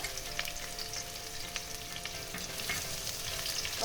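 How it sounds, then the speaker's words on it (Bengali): A large chopped onion fries in oil in a pan, giving a steady, fairly soft hiss of sizzling with a few faint stirring taps and a light tonal hum behind it. "পেঁয়াজটাকে একটু সামান্য ব্রাউন কালার করে ভেজে নেব"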